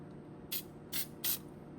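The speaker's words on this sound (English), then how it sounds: "we're going to spray just the image with my spray glue" Spray adhesive glue from an aerosol can, three short bursts of sharp hissing spray in quick succession against a quiet room background.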